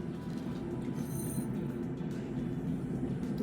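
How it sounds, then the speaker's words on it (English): A train passes at a distance, a low steady rumble with faint metallic clinks drifting over it, heard indoors at an estate sale. "You hear the train?"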